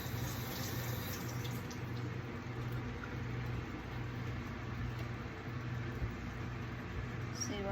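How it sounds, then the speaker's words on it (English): Tap water runs steadily into a sink as a freshly harvested garden tomato is rinsed, a continuous close splashing stream with a low background hum throughout. "I'm going to start with the biggest one and wash it off."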